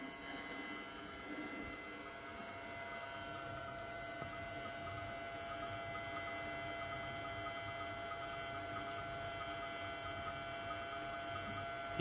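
A lab magnetic stirrer runs as a steady low hum and whir while sodium and ethanol react to make sodium ethoxide in a flask fitted with a drying tube, faint and constant with no speech.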